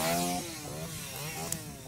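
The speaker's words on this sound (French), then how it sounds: "j'entendis le vrombissement d'une tronçonneuse" A chainsaw engine revs as a sound effect in a Halloween horror story, a droning, wavering whine that dips after a loud opening surge and carries on steadily to the end.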